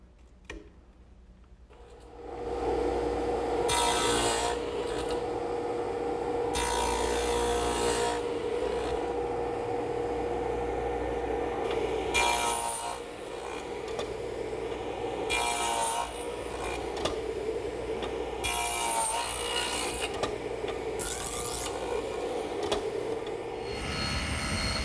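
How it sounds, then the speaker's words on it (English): A power saw with a stacked dado blade set for a 3/4 inch width cuts a dado into wooden front legs of a gardener's workbench, starting up to a steady loud whine with repeated harsher bursts as the blade bites. "What I'm starting to do now is cut a dado in the front legs"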